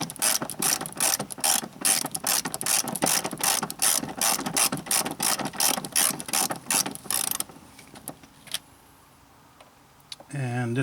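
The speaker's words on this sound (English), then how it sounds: "Now remove just loosen this 10mm bolt over here and that one right there" A ratchet loosens a 10mm bolt on a 1990-93 Honda Accord 2.2L during a fuel filter replacement, with rapid, loud, close clicking for several seconds before it stops and a few faint handling sounds follow.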